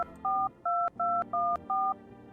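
Telephone keypad dialing in a horror video game: five clear two-tone DTMF beeps in an even, quick rhythm, close and clean, with no talking.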